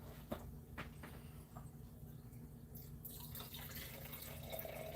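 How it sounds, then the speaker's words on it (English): Bacon grease runs and drips from a tipped cheap Walmart pan, a faint trickle with a few soft drips and splashes against a quiet background. "I just tip the pan, hold it for a little bit, let a lot of that extra grease come down."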